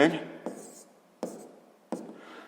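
A pen writes segment names by hand on paper for a sixth-grade geometry exercise, with three distinct strokes that each start with a sharp tap and then a soft scratch, close and clear, after a brief voice at the start.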